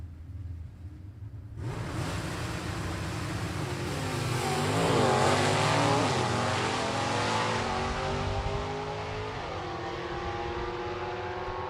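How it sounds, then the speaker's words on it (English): Stick-shift Ford and Chevrolet drag cars at a 2024 shootout launch with a sudden loud roar, then scream through rising revs and sharp gear changes down the strip, engines staying loud and continuous to the end. "Pulling the gears in the Ford and the Chevrolet."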